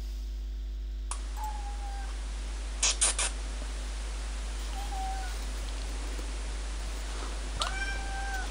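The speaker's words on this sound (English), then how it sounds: "I'd like to share this short video of me teaching my cat that pestering me will not get her food." A cat meows repeatedly while pestering for food, three or four separate plaintive cries spaced a few seconds apart against a quiet room hum, with a brief clatter in between.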